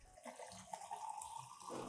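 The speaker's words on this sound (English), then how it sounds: "Then I will dilute the solution with about 1 liter of clean water to adjust it to a suitable concentration." Roughly a liter of clean water poured steadily to dilute a plant treatment solution for a yellowing peace lily, a soft continuous splashing stream that runs close and fairly quiet throughout.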